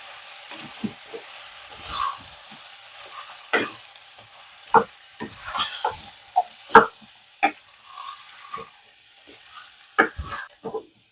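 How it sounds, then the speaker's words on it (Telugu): A spiced mixture with coriander powder and garam masala sizzles in a pan as a spoon stirs and scrapes it, giving irregular clacks and soft scraping bursts over a quiet, steady fry. "మంచిగా అంతా కలిసే విధంగా ఇలా కలిపి కొంచెం ఒక 2 నిమిషాలు వేగనివ్వాలి"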